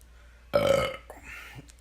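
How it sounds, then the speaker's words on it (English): One loud, throaty burp bursts out close to the mic during a podcast conversation and fades into quieter room sound. "The burp was perfect for that."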